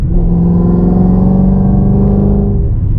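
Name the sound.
car engine revving with long tube headers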